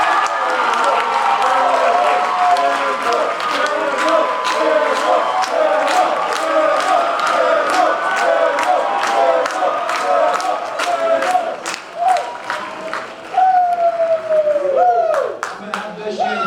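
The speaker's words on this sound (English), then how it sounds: "Please give them one more round of applause." A crowd at the close of the Auburn University SGA spring election debate claps, with distinct sharp claps rising over loud cheering and voices from the audience.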